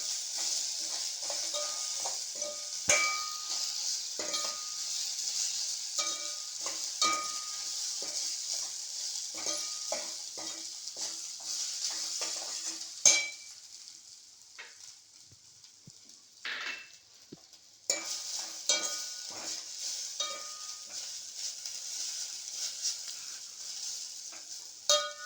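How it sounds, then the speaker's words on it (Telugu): Sago pearls fry and get stirred in a pan, giving a steady close sizzle broken by frequent scraping and clinking strokes of the spoon, with a brief quieter stretch midway and no talk. "ఇవి వేగిన తర్వాత ఈ సగ్గుబియ్యం కూడా ఇలా వేసుకొని"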